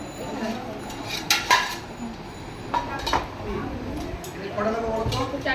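Plates and cutlery clink and clatter in a few scattered bursts as dishes are laid out for a birthday meal, close by, with people talking throughout.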